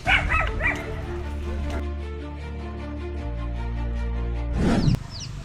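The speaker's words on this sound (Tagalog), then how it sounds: "Daming aso dito. Daming aso." Dogs bark and yip close by in short bursts, with a whimpering tone, over a steady low engine-like hum.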